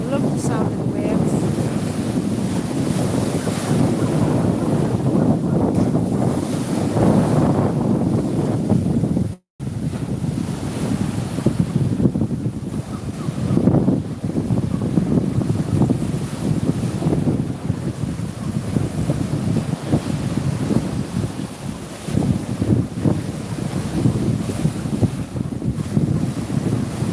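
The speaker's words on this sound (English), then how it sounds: "Love the sound of the waves." Sea waves at high tide wash against the promenade as a continuous surging roar, mixed with heavy wind buffeting close to the microphone. A very short gap in the sound falls early on.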